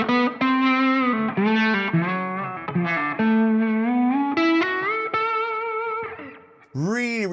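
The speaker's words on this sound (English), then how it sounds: "And that, with a little bit of slapback, is one of my favorite slide tones." Electric guitar played with a slide through a distortion-tinged amp tone with slapback delay, gliding sustained notes over about seven seconds, then a final swooping bend.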